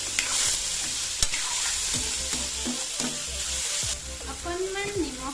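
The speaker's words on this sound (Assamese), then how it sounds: "এতিয়া ভালকৈ এইখিনি ভাজিম" Capsicum, carrot and other vegetables frying in a pan, a continuous loud sizzle with repeated stirring clatters and scrapes of a utensil against the pan, close up.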